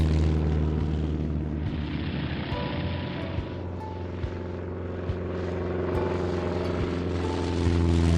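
A small cartoon helicopter flies with its big main propeller turning, giving a steady, loud whirring drone that holds throughout with a few faint clicks.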